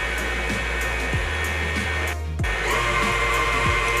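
An electric hand mixer whirs continuously through cupcake batter, a loud, even motor drone with a brief dip partway before it picks up again.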